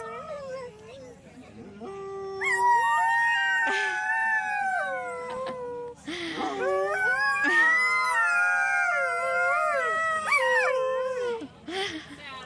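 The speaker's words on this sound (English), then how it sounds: "There were really adorable sheepdogs there that kept howling or singing, which was really cute" Sheepdogs at a fiber festival howl in long, wavering, sing-song notes, several overlapping voices rising and falling close by in repeated drawn-out bursts with brief pauses between.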